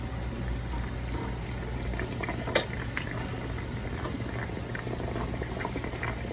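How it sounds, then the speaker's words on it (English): Water drains from an RV water heater tank with the plug pulled, a steady bubbling, gurgling flow close by with one brief sharper splash, continuous and without speech. "I'm gonna pull this drain plug all the way and let the water start coming out."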